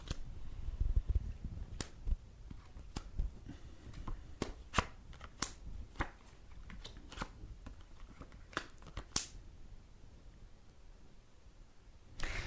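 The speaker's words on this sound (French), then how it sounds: "pendant que je place les cartes" Tarot cards placed and handled on a table, giving a sequence of soft, sharp card snaps and slaps at irregular intervals over quiet room tone, close and fairly faint.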